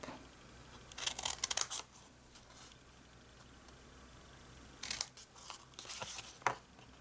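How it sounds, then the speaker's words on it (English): Scissors cut card stock for a craft-fair advent treat box in two short bursts of crisp, close snipping and rustling separated by a quiet pause. No one speaks. "So let's get our scissors and start trimming that up."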